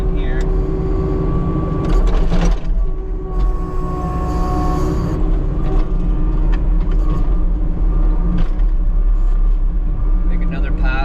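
Skid steer loader crossing a backfilled trench for a buried power line on rural sod; a loud, steady diesel engine rumble fills the whole span, with clanks and shifts in load but no pauses.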